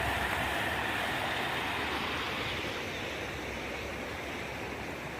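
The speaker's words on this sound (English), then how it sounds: "And look at those waters. Beautiful rapids here." River rapids rush in a steady, loud broadband roar of churning water, continuous and unbroken throughout.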